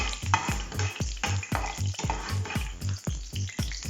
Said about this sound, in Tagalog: gisa tayo ng sibuyas,